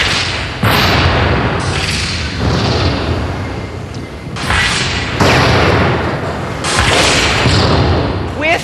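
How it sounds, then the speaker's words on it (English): A Halo 2 Warthog's mounted rocket launcher fires in the video game, several loud, close booming blasts with rushing tails in quick succession. "And this Warthog has a rocket launcher."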